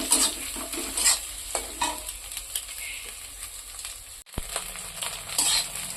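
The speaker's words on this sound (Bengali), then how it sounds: "ডিম দুটোকে একটু ভালো করে ভেজে নেব।" Two eggs with chopped chillies fry in a pan, a continuous sizzle broken by frequent scraping stirs and clicks, close and fairly loud, with a brief dropout near the end.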